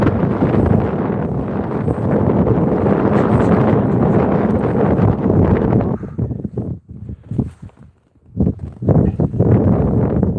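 Strong, vicious wind buffets the microphone in a loud, continuous roar while someone walks outdoors against it. The gusts ease and break into choppy bursts near the end.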